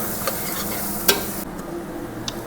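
Salmon curry with half a tablespoon of salt being stirred in a pan aboard a ship, a steady soft sizzle with scraping strokes and one sharp utensil clink midway, no voices.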